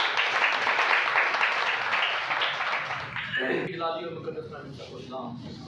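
Applause from a church gathering welcoming Pastor Samson, a moderate, steady patter of clapping that fades out under a speaking voice.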